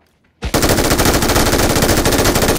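A video game machine gun opens up from behind the player, a sudden loud burst followed by sustained rapid automatic fire that keeps going to the end.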